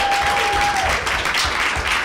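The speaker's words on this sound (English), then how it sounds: "How about another round of applause for our candidate?" Loud, dense audience applause at a political gathering at a yacht club fills the whole short stretch, a continuous roar of clapping heard close up.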